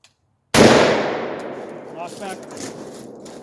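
A Palmetto AR rifle fires Tula ammunition with one sharp, loud shot that cuts in abruptly out of silence, followed by a long reverberating echo and ringing that slowly fades.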